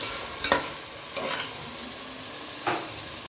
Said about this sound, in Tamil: அதுக்கு தயிர் போட்டு லைட்டாக அப்படியே கிளறி வரணும்.